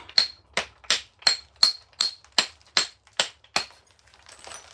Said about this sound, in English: when there's a real sharp crack, that's when you've done a nice, you've made a nice flake